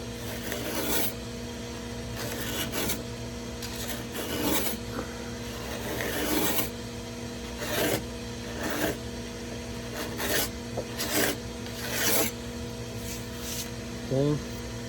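Repeated rasping scrapes stripping old finish off wood, short strokes coming in irregular bursts with pauses between, close up, over a steady low background hum.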